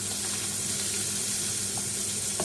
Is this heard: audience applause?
no